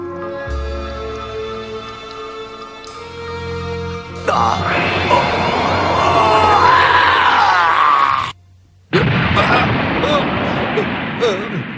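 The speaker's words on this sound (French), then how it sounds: "Mais qu'est-ce qui a explosé comme ça?" A loud, sustained explosion erupts in an animated Dragon Ball Z episode, a broad roaring blast lasting several seconds over strained shouting and groaning, cutting off abruptly before a rumbling tail returns.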